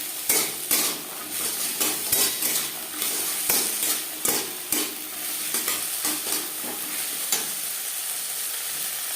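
Peas with ginger paste frying in a pan for moong dal, stirred with a spoon that scrapes and clinks against the metal in an irregular rhythm over a steady sizzle; close and fairly loud, with no voices.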